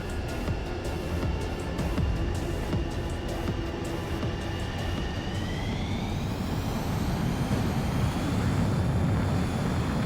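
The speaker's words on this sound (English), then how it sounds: "Attempting to land. I don't think my plane will make it." A jet plane attempting to land in the video game Ace Combat 7 roars steadily and close, its engine whine slowly rising in pitch beneath a continuous rushing wind.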